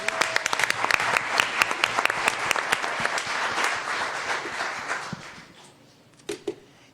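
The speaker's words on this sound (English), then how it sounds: "give them a round of applause" A round of applause for students at a school district governing board meeting: sharp nearby claps over a dense audience clapping that fades out near the end, followed by a couple of stray claps.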